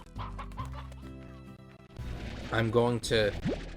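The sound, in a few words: hens clucking in video game Slime Rancher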